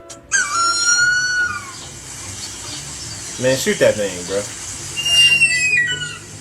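A harpy eagle's shrill, rising whistle-like call repeats a few times, with someone speaking briefly over it in the middle.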